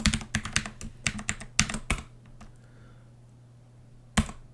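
Quick bursts of keystrokes on a computer keyboard as a password is entered, about a dozen close, crisp clicks over a low steady hum, then a pause and one final key press.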